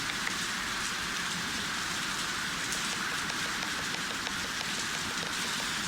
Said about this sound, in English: There's rain on the roof